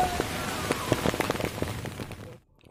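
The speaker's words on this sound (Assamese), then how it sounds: "জৰকীয়া আহিছে" Rain patters steadily on surfaces around a shop during a puja festival, with scattered sharper drips through the wash before it cuts off abruptly near the end.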